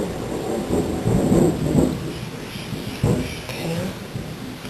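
Low thunder rumbles at a distance as rain approaches, rolling in a few soft swells over a steady outdoor background hiss.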